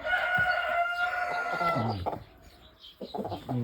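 A Jersey Giant rooster of about 5 kg crows nearby in winter, a long strained call, followed by softer clucking and short bird sounds close to the listener.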